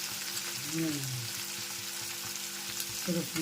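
Moong beans fry in a pan with tomatoes, a steady close sizzle running throughout, with a few stirring scrapes and clatters and a brief tonal squeak near the start.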